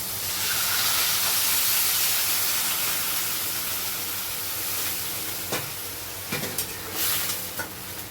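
Water poured into a hot cooking pan gives a loud, steady sizzle and steamy hiss that fades slowly, with stirring scrapes and a few clinks near the end.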